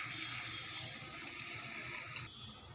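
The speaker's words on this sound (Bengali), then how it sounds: "এখন জল দিয়ে দেওয়া হবে।" Water pours steadily into a cooking pot while a spiced kheer is made, a close hissing splash that runs for a couple of seconds before dropping off abruptly.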